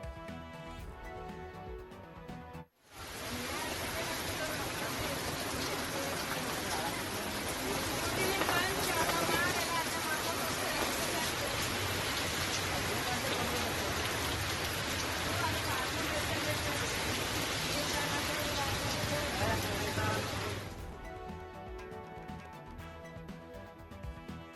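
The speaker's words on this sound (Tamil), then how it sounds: "கர்நாடகாவில் கல்புர்கி உள்ளிட்ட இடங்களில் சூறை காற்றுடன் வெளுத்து வாங்கிய கனமழை" Heavy rain lashes down with gusty wind in Kalaburagi, Karnataka, a dense, loud, unbroken roar of downpour that lasts about eighteen seconds before cutting off abruptly.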